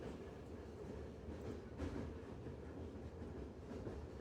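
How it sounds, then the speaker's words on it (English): A train rolling along in the video game A Taste of the Past, a steady low rumble with a faint rhythmic clatter that holds at an even level throughout, with no other sounds standing out. "And the train is going off somewhere?"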